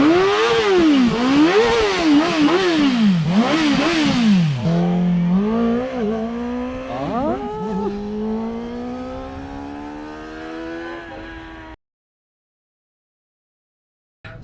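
Voge motorcycles rev loudly at an outdoor test ride, engines rising and falling in repeated pitch sweeps, then a long fading drone that ends in silence.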